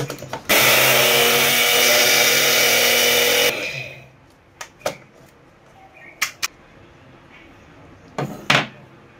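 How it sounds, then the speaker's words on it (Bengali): A kitchen mixer grinder dry-grinds fresh coriander leaves in a loud, steady whirring burst of about three seconds that then cuts off, followed by a few scattered knocks and clatters. "এটাকে শুকনো বেটে নেবো, নাহলে মিক্সিতে ভালো করে বাটা যায় না।"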